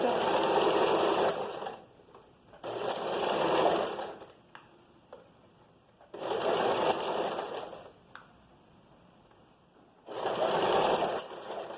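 Sewing machine stitching the back seam of a vest, running in four loud bursts of rapid stitching separated by quiet pauses with soft handling noises.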